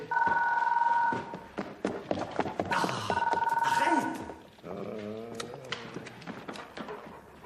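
A telephone rings in bursts of electronic trilling in an indoor domestic scene, sounding twice among clattering and bustle, with people talking throughout.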